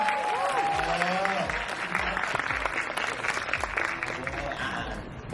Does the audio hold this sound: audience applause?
yes